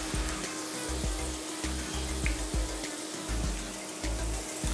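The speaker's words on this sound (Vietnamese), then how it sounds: "khoai chúng ta sẽ chiên lần một như thế này thôi ạ" Potato pieces deep frying in hot oil on a first fry give off a dense, continuous sizzle and bubbling, with faint clicks of stirring underneath.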